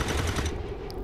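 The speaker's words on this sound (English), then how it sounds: "I hope that we get some good Overwatch turret gunfire" A rapid burst of automatic turret fire in the XCOM 2 video game, dense and continuous for about half a second before fading into a softer rumble.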